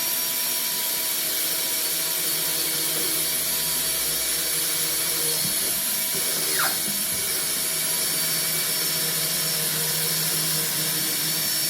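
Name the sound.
power drill boring through wood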